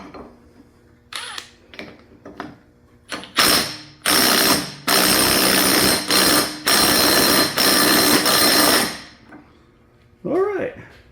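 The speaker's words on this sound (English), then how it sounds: "Use a chrome socket on an impact." Impact wrench fitted with a chrome socket works on a 1974 Dynastar lawn tractor, several loud rattling bursts of one to two seconds each, close by, with short pauses between, followed by a brief engine crank attempt near the end.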